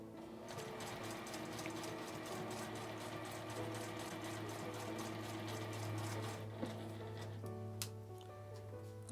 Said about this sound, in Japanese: 端をこのように折り上げて縫い目の下を縫います。